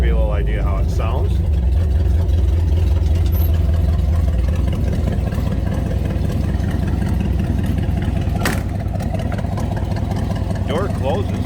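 A cold 1934 Ford pickup engine idles steadily and close by for the whole stretch while warming up, a constant rumbling drone with faint talking mixed in.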